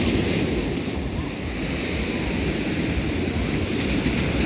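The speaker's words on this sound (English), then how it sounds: "But look at these waves" Steady broadband roar of sea surf washing continuously at a pier in Blackpool in February, fairly loud and close, with wind noise mixed in and no voices.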